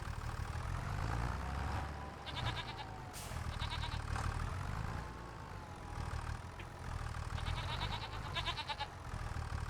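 Goats bleat repeatedly in the farming video game Calm Lands, wavering nasal calls rising and falling over a steady low engine-like hum, several overlapping cries at close range.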